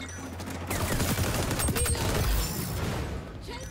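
Rapid gunfire bursts from the video game XDefiant, a loud sustained fusillade of shots with booming impacts, heard alone without talk.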